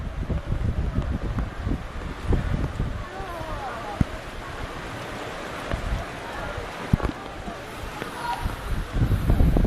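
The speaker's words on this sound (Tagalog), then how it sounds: "Yung lakas ng hangin." Gusty wind from Typhoon Ondoy buffets the microphone throughout, a rough roaring rumble with a couple of sharp knocks, while someone talks underneath.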